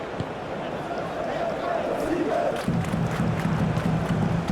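A stadium crowd in the eFootball game, during Senegal vs Austria at the 2026 World Cup, roars in a broad, sustained wash that swells slightly toward the end, with a commentator talking over it.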